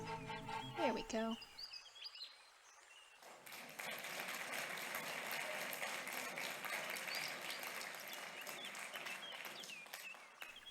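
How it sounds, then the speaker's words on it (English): Crowd applause in The Night of the Rabbit, a sustained wash of clapping that swells in after a short pause and holds steady at moderate level, with faint bird chirps and a brief voice near the start. "Round of applause, yay!"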